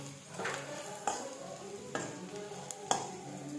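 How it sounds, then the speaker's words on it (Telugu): Ground coriander stirred into food in a pan, a soft low sizzle broken by a few sharp clinks and scrapes of a spoon against the pan, fairly quiet and with nothing else over it. "మొత్తం బాగా అంటేటట్టు మొత్తం కలపాలి."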